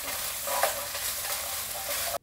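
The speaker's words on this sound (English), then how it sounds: "And then we'll give it a quick mix." Carrots and potatoes stirred in a hot pot for Japanese chicken curry, a brief close scraping and sizzling mix that stops abruptly.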